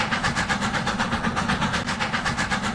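Rhythmic clickety-clack and low engine rumble of a Strasburg Railroad No. 90 steam train rolling along in a railroad video game, steady and close with evenly spaced wheel beats.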